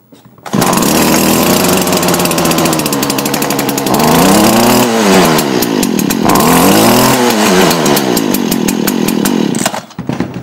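A Stihl FS56RC gas string trimmer runs after a recoil starter repair, its small two-stroke engine buzzing loud and close for about nine seconds, revving up and down in waves before cutting off.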